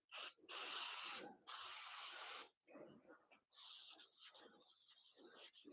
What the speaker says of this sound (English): we spray it onto the paper towel, and then we wipe.